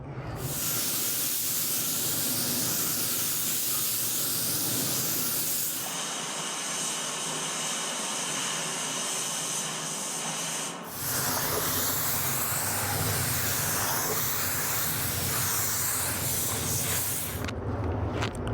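A spray gun lays black base coat paint onto a car grille on a classic Bronco, giving loud, close hissing bursts that stop briefly and then start again, with no talking.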